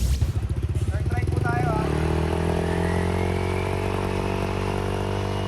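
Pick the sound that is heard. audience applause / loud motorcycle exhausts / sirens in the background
loud motorcycle exhausts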